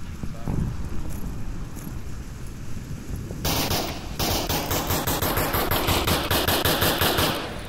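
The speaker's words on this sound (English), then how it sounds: "There goes the pre-firing that they talked about." Gunfire during a tactical target practice drill with cardboard targets: a faint early shot, then from mid-clip a loud, rapid string of pre-firing shots in quick bursts, outdoors with wind noise underneath.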